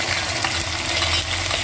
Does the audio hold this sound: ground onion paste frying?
yes